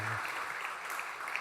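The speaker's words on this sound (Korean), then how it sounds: "우리 박수로 환영하도록 하겠습니다." A church congregation claps during a Sunday worship service to welcome newcomers, a brief, soft, scattered patter of applause heard from a distance.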